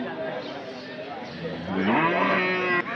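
Cattle at the Sunday cattle market in Anthiyur, with one drawn-out, fairly close moo rising over busy market murmur and people talking in the background.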